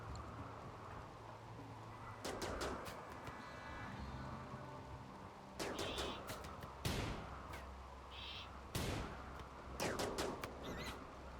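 Colonists fire guns in the colony sim RimWorld, producing scattered sharp cracks in small clusters over a soft, rain-like background hiss, with occasional faint tonal blips between shots.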